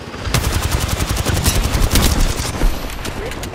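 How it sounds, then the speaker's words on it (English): Rapid automatic gunfire from an Apex Legends firefight, loud and close, a dense stream of repeated shots running nearly the whole time with a few sharper cracks mid-burst. "Opening fire."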